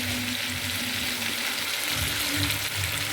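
Masala spice paste sizzles and crackles steadily in hot oil, close up, with occasional soft scraping as it is stirred in the pan; no voices.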